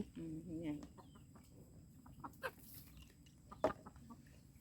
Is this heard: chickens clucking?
yes